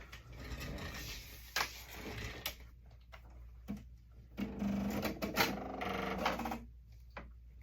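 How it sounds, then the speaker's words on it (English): A sewing machine runs in short bursts of rapid mechanical stitching, with brief pauses and small clicks between runs, fairly close. "I'm going to go to my sewing machine and just edge stitch as close as I can"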